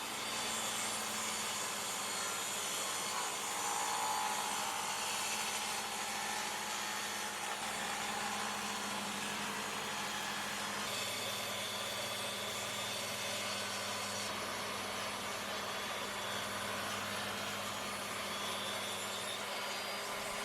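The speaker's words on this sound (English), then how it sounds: "And trimming my resin casts to the right dimensions." A power tool trims epoxy resin casts with angel hair inclusions, giving a steady whining, sawing drone that runs continuously at moderate level throughout, with slight shifts in pitch and load.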